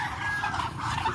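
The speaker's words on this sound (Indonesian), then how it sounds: "Ini bebek atau entok yang saya punya ini pada menyambut saya" A dense chorus of ducks or Muscovy ducks crowds a farm pen, with overlapping quacks and hissing calls filling the space continuously at moderate volume.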